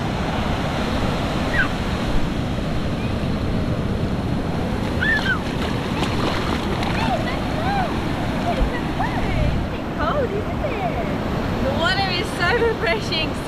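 Ocean waves wash steadily onto a shore in a continuous, loud rush, with gusts of wind buffeting the microphone and voices talking faintly in the background.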